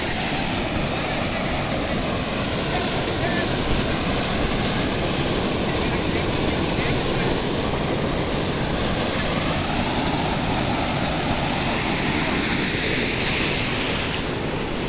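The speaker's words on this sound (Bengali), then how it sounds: "চলে এসেছি সেই ঝর্ণাটার কাছে।" Water from a waterfall at Maithon dam roars steadily and loudly up close, a dense, unbroken rush mixed with wind buffeting the microphone.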